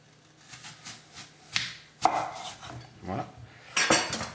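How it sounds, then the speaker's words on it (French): A knife slices through a peeled apple into thin rounds on a cutting board, producing a handful of separate crisp chops and clacks spaced irregularly, with light kitchen clatter between cuts. "on va couper à peu près des rondelles de 5 mm comme ceci"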